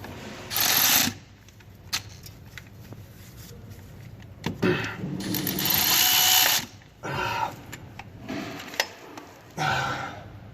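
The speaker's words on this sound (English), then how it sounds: "I'm going to spin the ratchet so I can try to break it" A ratchet wrench working to break loose a stubborn top starter bolt on a Ford 6.4 diesel truck, heard as several bursts of rough clicking and grinding effort with strained pauses between, close and moderately loud.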